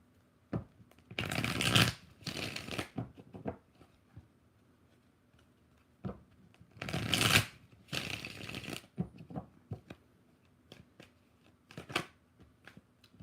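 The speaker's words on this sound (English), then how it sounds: "Let's change decks. We're going to do 3 shuffles with this one." Tarot cards are shuffled in two quick riffle bursts a few seconds apart, close and crisp, with light taps and card handling between them in a quiet room.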